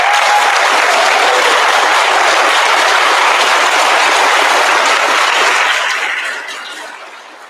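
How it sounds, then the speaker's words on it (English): A large crowd at a ceremony for the Moravian Church settlements claps loudly and continuously, the dense applause holding steady before fading away over the last second or two, with no talk. "And a round of applause for that."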